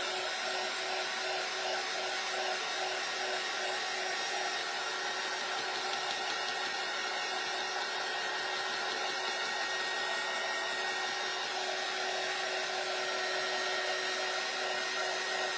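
Steady, continuous whir of a hair dryer blowing on a farmhouse Christmas tree craft from a kit, held close and loud throughout with no talking.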